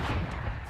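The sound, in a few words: gunfire wall bang in the video game Valorant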